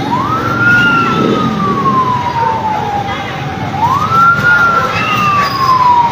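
Fire engine siren wails in long rising and falling sweeps as trucks arrive at a building fire in Pinagbuhatan, Pasig City, loud and steady over crowd noise.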